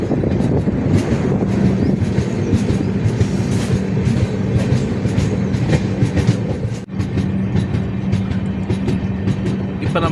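A passenger train on the Mumbai to Chennai route nears Gooty railway station, heard from on board as a loud, constant rumble with rhythmic clickety-clack from the wheels and some wind buffeting.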